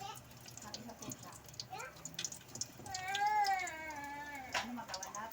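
A cat gives a few meows, including one long, drawn-out wavering cry in the middle, close by, with people talking quietly in the background.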